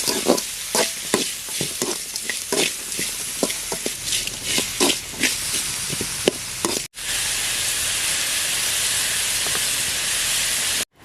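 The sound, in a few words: onions sauteing in a pan for fish curry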